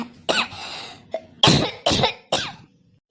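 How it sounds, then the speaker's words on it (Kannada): Elderly woman coughing from a cold, a series of about five harsh, close coughs in uneven bursts with short gaps between them. "ಯಾಕೋ ಹಾಳು ಕೆಮ್ಮು ಆಗ್ಬಿಟ್ಟದೆ. ಶೀತ ನೆಗಡಿ."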